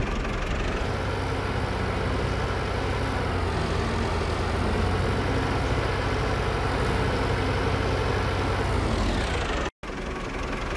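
A farm tractor idles in a field at harvest time, a loud, close, steady low engine drone that holds throughout. Near the end it drops out for a brief moment, and no speech is heard.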